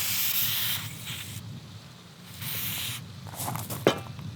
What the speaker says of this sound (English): Now once I spray this activator, I gotta hustle.